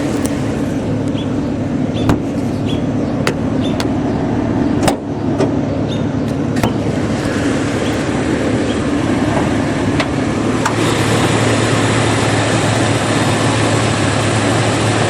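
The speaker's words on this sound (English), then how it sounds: "So I'm going to let it run for a little while here." A 1972 Oldsmobile Cutlass convertible, recently power-tuned, idles steadily with its hood open, a continuous close engine hum with faint clicks and ticks throughout and no talking.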